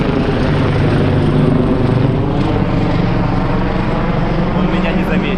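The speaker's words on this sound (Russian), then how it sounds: "А вот вертолет за мной вылетел." A helicopter drones steadily overhead above Comino island off Malta, a loud continuous rotor and engine roar that barely changes across the moment.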